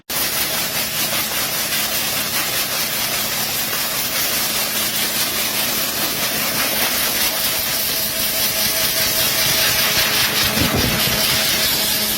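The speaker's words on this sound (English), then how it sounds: "这是胡萝卜收获机。 它究竟是怎么能够把萝卜从土里边挖出来呢" Carrot harvester machine working in a field, a loud continuous mechanical roar with hissing and rattling texture, steady throughout with no speech.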